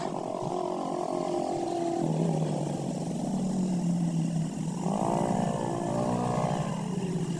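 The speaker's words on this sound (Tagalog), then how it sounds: "Yun yung mga motor." Motorcycles pass by on a road in Dingalan, engines droning and rising in pitch as one draws near around the middle, steady and moderately distant throughout.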